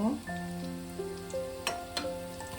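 Chicken pakoras fry in hot oil with a steady close crackling sizzle, a couple of sharper pops rising above it and faint tonal sounds drifting underneath.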